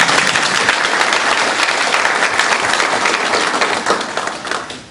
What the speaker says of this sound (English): So let's give all the other principals a round of applause